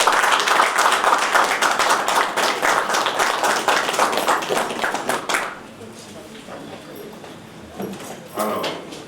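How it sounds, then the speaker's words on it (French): A crowd at an award ceremony gives rhythmic, fairly close applause for about five seconds, then the clapping stops abruptly. A quieter stretch follows, with a few faint sounds near the end. "On l'applaudit."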